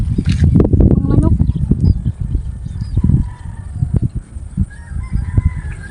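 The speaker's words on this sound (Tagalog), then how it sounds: "Yung manok." Farm fowl cluck and squawk in close, busy bursts on a rural Philippine farm, with voices talking over and between the birds throughout.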